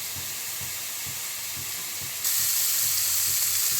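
Spices are being fried down in a pan for a katla fish curry, a steady close sizzle with soft rhythmic stirring thumps that grows noticeably louder and brighter partway through, no voices.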